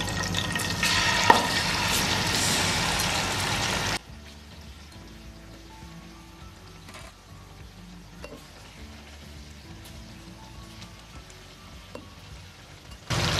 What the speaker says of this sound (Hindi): अब मटन को मैं फ्राई कर लूंगी मसाले के साथ